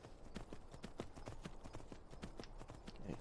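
Horse hooves clip-clopping steadily in the video game Skyrim, an even run of quiet hoofbeats at a trotting pace, with no talk over them.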